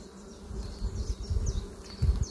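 Honeybees swarming over beehive frames being moved, a close, fluctuating buzz with low thumps and rustles of handling, no talk.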